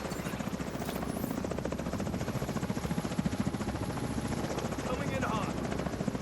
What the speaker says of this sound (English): How many helicopters have we got here?